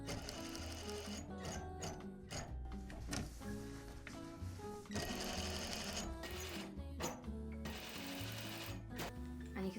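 Domestic sewing machine straight-stitching elastic into a shorts waistband at a fairly small stitch length, a steady close mechanical whirr and clatter running continuously with brief pauses and restarts.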